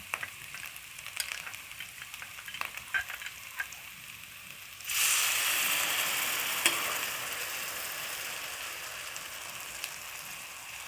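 A spice masala for omelette curry sits in a pan, first as quiet scattered crackles with a few stirring ticks, then a sudden, steady, louder sizzle and bubbling that holds to the end, close, with no talk.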